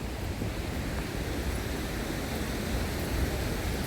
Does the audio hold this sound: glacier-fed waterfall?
yes